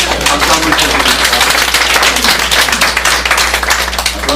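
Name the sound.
church congregation applause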